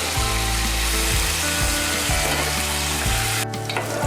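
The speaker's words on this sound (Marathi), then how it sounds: "टोमॅटो आपण व्यवस्थित भाजून घेतला" Tomatoes frying in a pan for Maharashtrian tomato saar give a steady, loud sizzle, with rhythmic low scraping strokes from stirring and a short drop in the hiss near the end.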